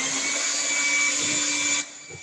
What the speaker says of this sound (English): This is a regular hand blender I got from Walmart